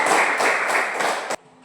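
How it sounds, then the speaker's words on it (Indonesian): A classroom group claps together for group 3, a dense burst of applause lasting over a second before cutting off sharply into quiet. "Mari kita tepuk tangan untuk ke kelompok 3."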